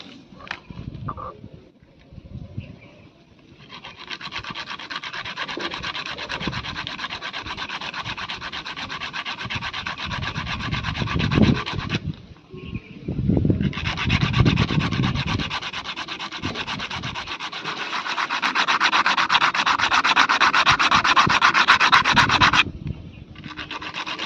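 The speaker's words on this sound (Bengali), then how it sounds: "আমরা পদ্মদানাগুলো ততক্ষণই ঘষেছি যতক্ষণ না এই সাদা লেয়ারটা আমাদের কাছে এসেছে" Lotus seeds are rubbed hard against a rough surface to scrub off their coating, giving long, close, raspy scraping strokes in two main bursts with brief pauses and small handling knocks between them.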